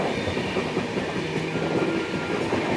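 The 12651 Tamil Nadu Sampark Kranti superfast express running out of Chennai, heard from inside as a loud, steady rumble with faint rhythmic clicking of wheels over rail joints.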